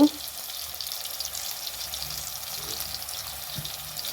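Water runs into ground masala in a pan for a Mangalore-style sardine curry, a steady close watery hiss and gentle sizzle with a few faint knocks.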